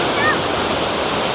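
Kuang Si waterfall in Laos roars with a loud, steady rush of falling water, a dense broadband hiss that fills the scene with no pauses.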